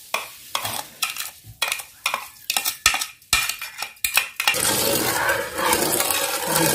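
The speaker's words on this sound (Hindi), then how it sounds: "अब इस चीनी को अच्छे तरीके से मिक्स कर लेंगे।" A spoon stirs half a kilo of sugar into boiled milk for a sardai drink, giving a run of distinct clinks and scrapes against the pot that end in a steady, noisy swirl.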